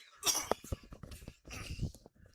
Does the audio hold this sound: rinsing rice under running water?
no